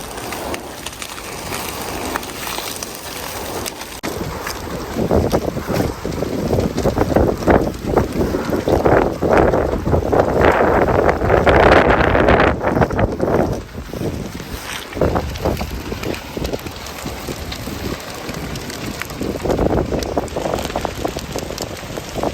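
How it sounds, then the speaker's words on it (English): Wind blows hard across an open field during a controlled burn, roaring and buffeting the microphone in loud gusts that swell and ease over about twenty seconds, with no talk. "Oh, the wind switched just a little bit."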